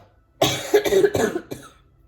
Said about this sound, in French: je suis désolée si je tousse un petit peu